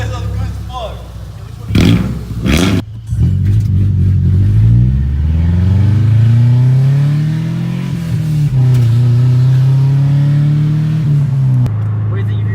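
A 2001 Subaru Outback Sport with catalytic converter and muffler deleted for a straight-pipe exhaust, revved hard in loud, rising and falling throttle blips with a raspy drone, close by, while people talk over it.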